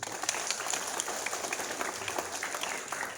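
Schoolchildren clapping during a traffic police visit to an elementary school, a faint, dense patter of many hands that continues steadily and sounds somewhat distant.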